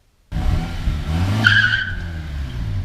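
A truck's tires skid and squeal hard across pavement, laying down tracks: a sudden loud screech that bursts in after silence and holds steady with engine rumble beneath, no voices present.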